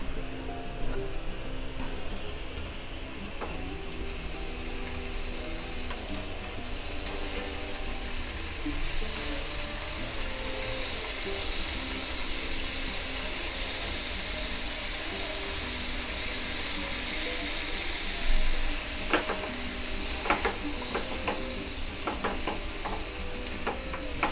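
Paneer cubes frying in a nonstick pan on a gas stove, giving a continuous close sizzle with scattered pops and some scraping from stirring, and no voices.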